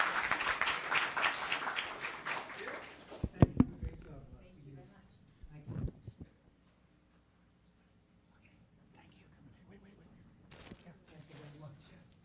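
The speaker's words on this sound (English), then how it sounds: "How about a round of applause for Ted?" A town council meeting audience applauds Ted, a loud burst of clapping that fades over a few seconds into scattered claps and quiet room noise, with talking nearby.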